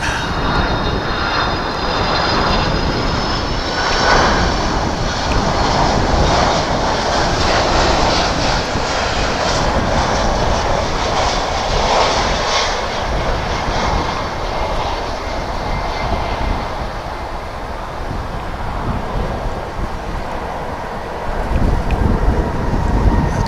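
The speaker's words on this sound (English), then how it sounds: "This will be another 767 coming in from Ontario in California." A Boeing 767 arriving from Ontario, California comes in to land at DFW Airport, its jet roar loud and sustained for over twenty seconds with a broad, wind-like rush.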